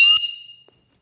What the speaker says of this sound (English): Nice. High quality whistle.